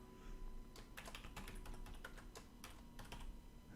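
Quick, irregular clicks of keys being typed on a computer keyboard, close and fairly quiet over a low steady hum, with no voice.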